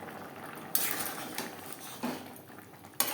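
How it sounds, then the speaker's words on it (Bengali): A spoon clinks and scrapes against a pan as kasuri methi and garam masala powder are mixed into an egg and potato curry gravy: about four sharp knocks spaced unevenly over a soft background hiss. "কাসুরি মেথি ও গরম মশলা পাউডার বেশ ভালো করে মিক্সড করে দেব।"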